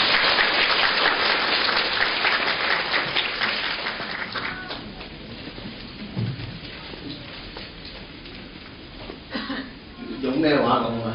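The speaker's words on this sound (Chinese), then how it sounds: "大家鼓掌欢迎。" An audience claps to welcome a speaker at a lecture hall of Hong Kong Polytechnic University, dense at first and then thinning out, before a voice begins talking near the end.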